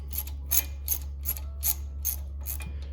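Ratchet on a long extension working a hardened bolt loose during axle and bearing work on a 2014 Dodge Grand Caravan: seven quick bursts of ratcheting clicks in a steady rhythm over a constant low hum.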